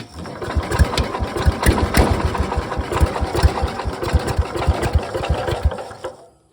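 A Cub Cadet lawn tractor's small engine sputters to life and idles with a rapid, chugging putter, loud and close, then cuts off abruptly near the end.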